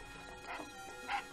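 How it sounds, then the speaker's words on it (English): A dog barks twice, one short bark and then another about half a second later. Both sound faint and somewhat distant over a quiet indoor background. "Damn dog!"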